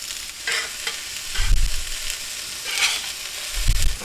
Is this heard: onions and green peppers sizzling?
yes